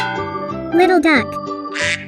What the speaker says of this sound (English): Little duck.